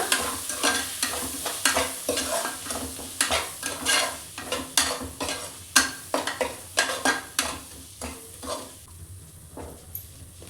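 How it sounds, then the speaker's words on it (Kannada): Egg keema masala frying in a pan while a spatula stirs it briskly, a bed of sizzle cut by repeated rhythmic scraping and clinking strokes that slow and thin toward the end. "ಇದನ್ನು ಇವಾಗ ನೀಟಾಗಿ ಫ್ರೈ ಮಾಡ್ಕೊಳ್ಳೋಣ"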